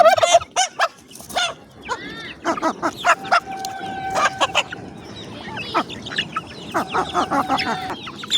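Turkeys call close by, with bursts of gobbling and clucking in irregular clusters separated by brief pauses.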